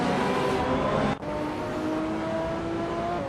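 Steady, loud engine drone from a 1996 Porsche 911 GT2 race car on the Seattle circuit in a Retro Supercars class race in a racing game, holding a sustained note with a brief dip partway through.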